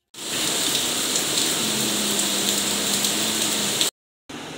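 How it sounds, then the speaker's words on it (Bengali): Steady, dense rain pours down close by at a construction site, a continuous hiss that runs unbroken for nearly four seconds, cuts out briefly, then resumes. "আর বৃষ্টির মধ্যেই এখানে কাজ হচ্ছে"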